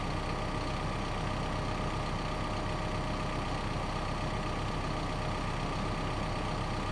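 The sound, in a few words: backhoe engine running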